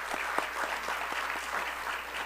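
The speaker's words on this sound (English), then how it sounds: "Can we give them another round of applause?" Applause from an audience at a university coronation ceremony, fairly faint and distant clapping with a few sharper individual claps over a steady hiss.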